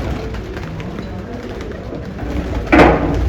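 Pigeons at a loft in Dinga coo softly and steadily, close by, over a low murmur of background activity, with a brief louder rustle or flutter near the end.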